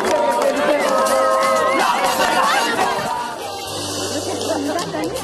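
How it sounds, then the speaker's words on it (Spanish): A large crowd at a political rally cheers and claps loudly, a dense roar of voices and applause that eases slightly toward the end. "¡Fuerte el aplauso!"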